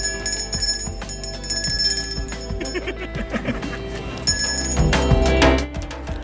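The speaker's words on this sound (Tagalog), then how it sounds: "So, yung bell na yun, hindi yun para sa commendation. Yun ay para magtawag ng waiter for follow-up or pag magbibill out." Bell at a Filipino restaurant in Silang, Cavite, rung to summon a waiter, several bright metallic dings and rings sounding close among clattering dining noise and voices.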